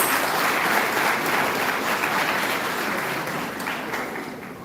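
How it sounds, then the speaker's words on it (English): Audience at a church gathering giving a round of applause as a guest is invited on stage: a full, sustained burst of clapping that holds steady and tapers slightly toward the end. "Shall we all give a round of applause?"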